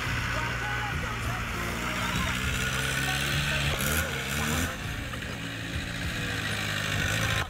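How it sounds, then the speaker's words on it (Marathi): A tractor rumbles steadily, rolling back and forth over rice spread out for threshing on a farm, its low engine drone continuous and fairly loud with mechanical clatter; voices are faintly present beneath it. "ट्रॅक्टरनं जरा मागे पुढं घारघूर करून मळणी काढायला चालू केली"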